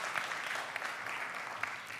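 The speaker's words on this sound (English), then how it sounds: "please join me in giving a big round of applause to Ms. Calexto and Dr. Pentatham." Conference audience at an academic meeting on disaster health management applauds steadily for about two seconds, a dense wash of clapping heard from a distance, with no talk over it.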